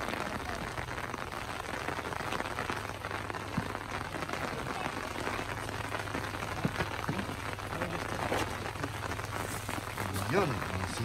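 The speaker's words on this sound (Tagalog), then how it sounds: "Ganyan pala pagka umuulan." Rain falls steadily at a camping site in Mclean Creek, Kananaskis Country, a dense continuous patter on surfaces close by, with a low hum underneath and occasional louder drips.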